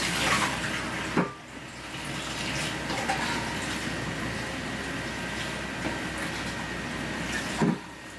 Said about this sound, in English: I'm just running the cold water on this.